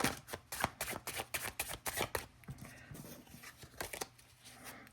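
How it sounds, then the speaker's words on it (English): A tarot card deck being shuffled by hand, quick riffling bursts of papery flicks and taps in an irregular rhythm, close and quiet with no talking. "let's shuffle, and I'll get out a few."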